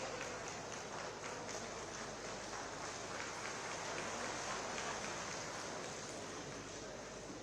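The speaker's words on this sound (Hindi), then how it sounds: "सभी से अनुरोध जोरदार तालियों के साथ माननीय मुख्य अतिथि महोदय का स्वागत करें।" At a state anniversary ceremony in Solan, a large crowd gives a steady, distant-sounding roar of applause for the chief guest, continuous and even throughout with no speech.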